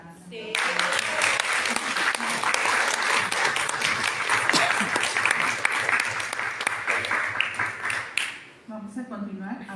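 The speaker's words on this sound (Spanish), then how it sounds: "Creo que un aplauso más fuerte para Ana." An audience at a literary event breaks into loud, sustained applause, a dense wash of clapping that starts abruptly and holds for several seconds before fading, with a voice speaking briefly before and after.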